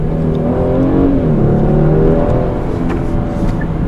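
A Genesis G90 3.3T sedan accelerating, with an artificial engine note from its sound generator filling the cabin. The drone is steady and loud and rises slightly in pitch. No one speaks.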